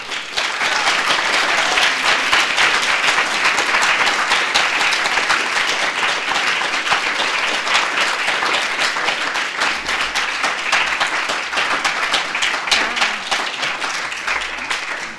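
A large audience applauds at the close of a talk on Indigenous law, steady dense clapping sustained at full loudness for the whole stretch with no voices over it.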